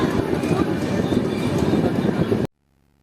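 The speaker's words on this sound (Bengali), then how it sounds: "ফাইনালি আমাদের ট্রেন ছেড়ে দিল রামপুরহাট জংশন রেলওয়ে স্টেশন থেকে" Heard from inside the coach, the Uttarbanga Express rolls out of Rampurhat Junction with a steady rumbling roar and faint rhythmic knocks that stop abruptly after about two and a half seconds, followed by near silence.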